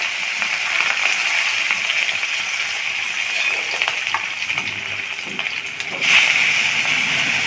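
Fish pieces frying in hot oil for a Bengali fish curry, a continuous loud crackling sizzle with a sharper burst of spattering toward the end, no talking.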